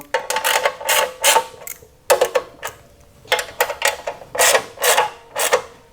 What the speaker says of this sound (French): Vous remettez vos 3 vis. Hop. Un petit coup de serrage.